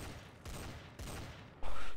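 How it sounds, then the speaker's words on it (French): Bursts of gunfire from a Garry's Mod DarkRP server match, with several loud volleys of shots in quick succession, the last burst the strongest, and no talk over them. "ça tire dans tous les sens"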